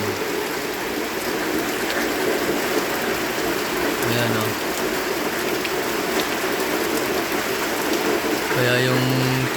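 Heavy rain falls in a continuous, dense hiss that never lets up, broken only by brief low hums around the middle and at the end.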